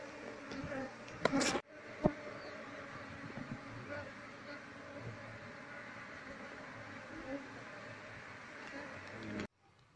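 A steady, dense buzzing of many Asian honey bees (Apis cerana) fills the recording at close range, with a few sharp knocks near the start and faint voices underneath.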